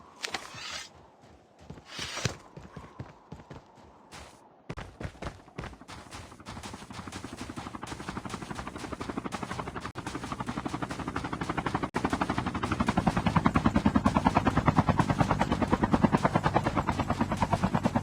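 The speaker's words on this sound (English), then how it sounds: "Chopper there." Helicopter in the Call of Duty video game, a steady rapid rotor chop that swells from moderate to loud and close over the clip, with sharp bursts of game gunfire early on.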